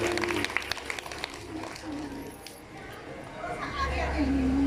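An audience applauds at a Shiv Mahapuran katha gathering in Bhimtal, scattered clapping rising and fading around amplified speech, with a crowd murmuring nearby.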